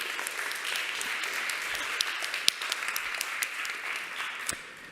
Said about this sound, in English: So a round of applause to our wonderful supporters.